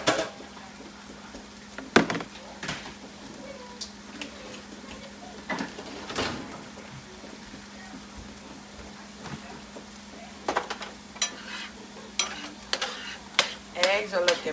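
Eggs stir and fry in a pan, with a soft, steady sizzle and a low hum beneath intermittent scraping and clicking strokes of a utensil that grow busier toward the end.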